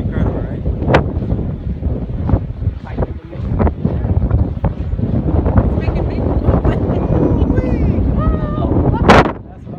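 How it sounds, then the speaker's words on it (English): Strong gusty wind buffets the microphone while a Jamaican bamboo kite is flown outdoors, roaring in uneven bursts with sharp thumps, as people talk and exclaim excitedly over it. "some wind right there"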